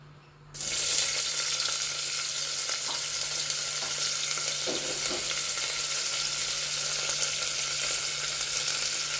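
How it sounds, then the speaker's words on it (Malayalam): Sliced onions drop into hot oil for a mutton curry, setting off a sudden, loud, steady sizzle that carries on evenly, close up, without a break. "ഓയിൽ ഒഴിച്ച് കൊടുത്തിട്ടുണ്ട്. ഇനി സവാള ഇട്ട് കൊടുക്കാം."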